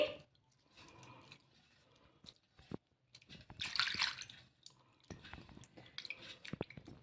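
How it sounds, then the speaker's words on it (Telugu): Idli semolina, about a cup, is washed by hand in water in a bowl, giving soft intermittent sloshing, squishing and dripping sounds, close and fairly quiet, with brief pauses between handfuls. "ఇలా ఒక కప్పు రవ్వ తీసుకొని ఒక రెండు మూడు సార్లు ఈ రవ్వని బాగా కడిగేసుకోవాలి"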